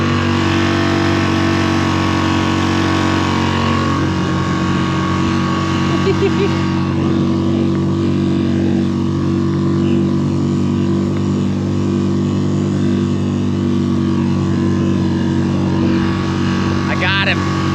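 Motorboat engines race on open water, a loud steady droning roar throughout with a constant hum, while people shout and talk over it.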